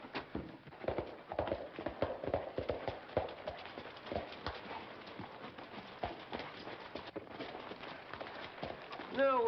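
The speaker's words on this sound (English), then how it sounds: "Saddle up the horses." Horse hooves clip-clop steadily in a dusty 1940s Western setting, a brisk run of overlapping hoofbeats carrying on throughout, fairly close and continuous with no clear talking over them.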